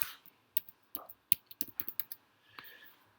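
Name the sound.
typing on computer keyboard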